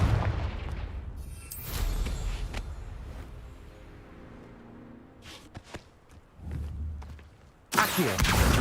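In Hogwarts Legacy, a Confringo blasting spell erupts in booming explosions, one burst early and another sharp, loud blast near the end, with thuds and quieter rumbling between.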